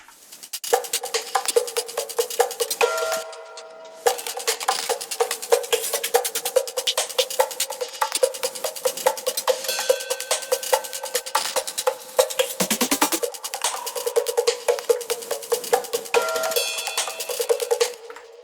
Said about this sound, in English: there's a lot more percussion in this section.